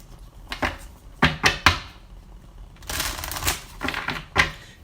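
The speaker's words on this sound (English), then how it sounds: "let me move these cards out of the way so I can have some room to shuffle" Tarot cards are shuffled by hand in short bursts of riffling, slapping and sliding, with sharp flicks early on and a longer, denser riffle later, close and dry with no talk.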